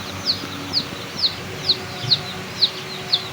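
Young chicks and ducklings cheeping indoors, a run of seven evenly spaced high, thin peeps over a low background hum.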